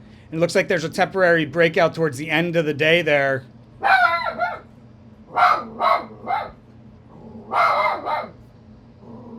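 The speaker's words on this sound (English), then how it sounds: "Apologize for the barking dogs." Several boarded dogs bark in short bursts behind someone speaking, the barks close and fairly loud, spaced irregularly through the second half after the talking.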